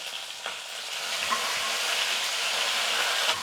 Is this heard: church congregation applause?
no